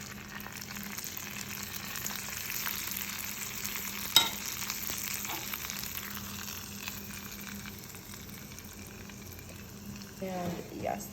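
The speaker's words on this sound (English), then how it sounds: "So since this is very hot oil, you want to carefully pour it in." Very hot strained oil poured into a heat-safe bowl over chili flakes, giving a steady, close fizzing sizzle throughout, with a sharp spike partway and a brief crackling burst near the end.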